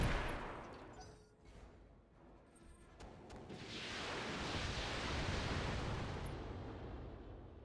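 Mech weapons in the Roguetech game fire in a dense, rumbling barrage, with a sharp burst at the start, a brief lull, then a broad, roaring wash of blasts that swells and lingers.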